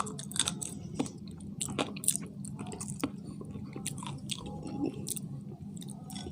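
Close, crunchy chewing and biting on fried chicken during an eating contest, with repeated wet bites and crackly crunches over several seconds and no talking.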